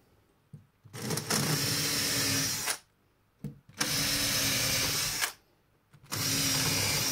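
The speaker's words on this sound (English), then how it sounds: "I'll pre-drill a couple of holes." A power drill whirs loudly in three bursts of a second or two each, pre-drilling screw holes in a faceplate, with brief quiet pauses between them.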